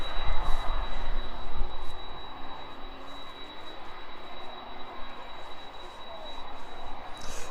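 A distant aircraft rolls off runway 27 at East Midlands Airport, a steady low engine rumble that swells and fades a little, with a faint high whine and wind noise, no voices.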